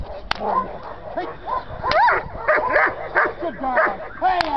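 A dog barks and yips repeatedly during a training session, sharp loud calls in an uneven rhythm close by, mixed with a handler's shouted commands.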